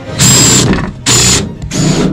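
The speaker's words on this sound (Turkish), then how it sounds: "Vallahi su deposunu deldiler." A power drill bores into a water tank in a caravan being fitted out, sounding three sharp whining bursts close by, each under a second long, separated by brief pauses.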